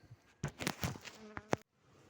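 Honey bees in an open hive give a close, brief buzzing drone lasting about a second, rising and wavering before cutting off into quiet.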